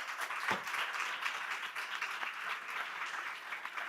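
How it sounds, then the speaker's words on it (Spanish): A seated audience at a Spanish-language round table on multiple sclerosis symptoms gives a steady round of clapping for a doctor on the panel, fairly quiet and continuous throughout. "Fortísimo aplauso también para él."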